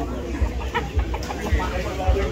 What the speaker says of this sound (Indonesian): Iya ayam jero nek ngene iki.